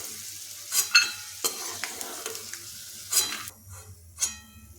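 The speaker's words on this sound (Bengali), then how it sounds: "তেলটা গরম হলে ওই তেলে বাদাম ভেজে নিচ্ছি।" Peanuts fry in hot mustard oil in a wok, with soft sizzling broken by several sharp stirring scrapes and clinks against the pan, and no voices.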